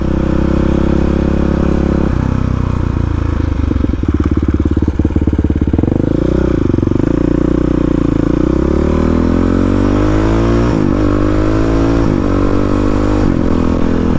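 A supermoto motorcycle with a six-speed gearbox warming up, its engine loud and close, idling with a rough throb and then rising and falling through a few blips of the throttle before settling again.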